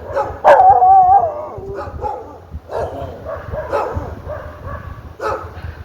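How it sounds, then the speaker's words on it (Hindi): Dogs bark and howl in bursts, with one drawn-out whining bark standing out early, then scattered yaps continuing at moderate distance. "अब ये भौंकते भौंकते मेरे पास आ रहे हैं।"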